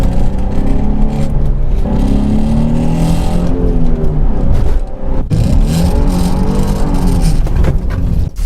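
A junkyard-bought Nissan's engine pulls hard under load from inside the cabin, a loud, continuous droning roar with rising and falling revs as it accelerates, with a brief dip midway before pulling again.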